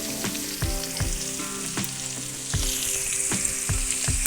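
Garlic sizzles steadily in hot oil in a pan for a fish curry, with a spoon scraping and clinking against the pan every half second or so, close and fairly loud, no talking.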